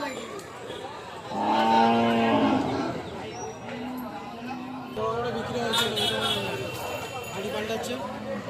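Cattle moo repeatedly at a busy Friday cattle market held for Qurbani sales, several loud drawn-out lows from nearby animals over a constant crowd murmur and scattered chatter.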